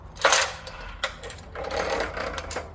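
A heavy-duty magnetic sweeper picks up small metal shavings in one quick pass, giving a close burst of metallic clinks and rattles with a brief scraping and jingling tail.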